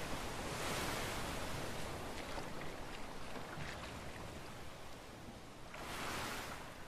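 Rushing water from a waterfall during a rafting stretch of the video game A Way Out, a steady broadband roar with slow swells, moderately loud and unbroken by voices.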